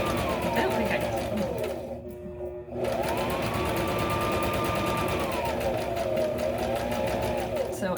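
A sewing machine stitches backpack fabric in a continuous rapid mechanical whir, pausing briefly once, heard under a person talking.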